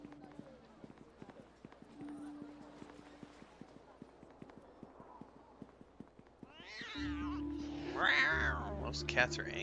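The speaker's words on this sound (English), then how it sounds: "Those cats are angry cats" Angry cats in Neverwinter Nights 2 let out drawn-out, wavering meows and yowls near the end, over a background of steady clip-clop footsteps and a low hum.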